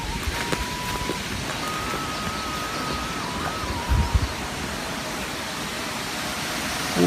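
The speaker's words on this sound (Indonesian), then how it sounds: "Wah, hujan besar" Heavy rain pours down steadily in a remote village beside freshly harvested rice paddies, making a dense, even hiss with strong wind and a faint hum in the background.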